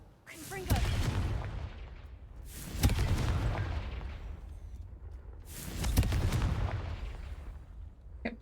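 Confringo, the explosive spell in Hogwarts Legacy, goes off in three booming blasts, each a few seconds apart, loud and close with a rumbling decay, while a voice speaks between them.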